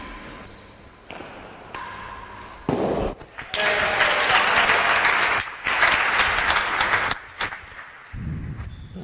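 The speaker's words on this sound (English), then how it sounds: "Applause there, deserved applause for a point, good finish" Spectators at a squash semifinal clap after a point, bursts of applause broken by short gaps, with a few sharp isolated sounds and quieter spells between.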